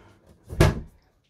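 A cheap drawer inside a Hymer BML i880 luxury motorhome shuts with a single short, dull knock. It is close and moderately loud, with nothing else heard around it.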